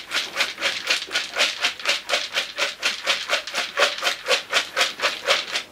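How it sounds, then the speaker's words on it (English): Rapid rhythmic shaking of a container of dog biscuits soaking in hot water, each swish of contents rubbing and sloshing in a regular back-and-forth pattern, close up and moderately loud. "give them a good shake."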